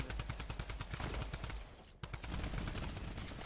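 Fortnite minigun firing in a fast, continuous stream of rapid shots, steady and fairly loud, briefly stopping before resuming at the same relentless rate.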